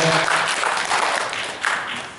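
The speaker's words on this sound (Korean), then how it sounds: "큰 박수 한번 보내드릴까요?" An audience at a provincial government citizen jury meeting in a hall gives a round of applause, a steady, dense wash of clapping that gradually fades out.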